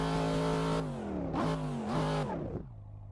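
A Chevrolet Corvette C7 engine in the racing game Assetto Corsa revs hard, holding a loud buzzy note, then dipping and rising in two quick throttle blips before dropping to a low idle.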